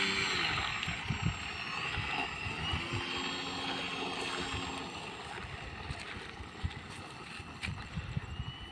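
A Cessna light aircraft taxiing, its engine giving a steady, moderately distant drone with a faint tonal hum and some rumble underneath, continuous throughout with no speech.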